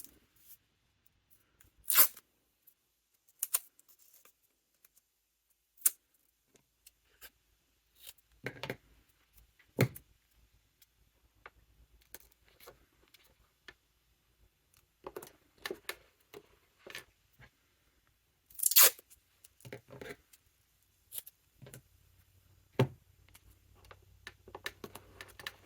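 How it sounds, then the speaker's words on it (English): Masking tape torn from the roll and pressed over the back of a bag piece, heard as a few sharp, isolated rips and crackles separated by quiet gaps, close and fairly loud. "And now I'm going to take some masking tape"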